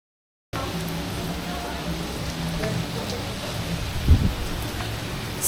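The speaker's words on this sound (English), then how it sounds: "it's a rainy day at the beach" Rain falls steadily at a beach resort on Mactan Island in the Philippines, a broad even hiss of drops with a brief louder thump partway through and faint background sounds.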